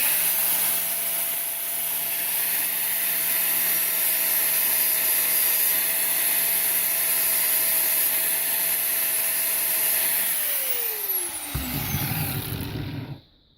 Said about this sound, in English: All I want to do is just grind this rivet so it's got a bit of a flat surface